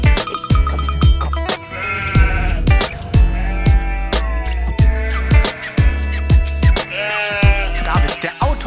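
Sheep bleating repeatedly and loudly over a rhythmic musical backing, the calls arriving in quick succession with a steady beat underneath.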